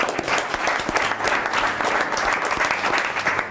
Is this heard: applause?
yes